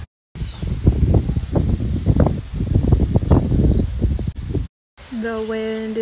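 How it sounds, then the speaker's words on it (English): Strong wind blows outdoors and buffets the microphone in loud, uneven rumbling gusts that drop out briefly, with a voice speaking near the end. "No, but it is super windy."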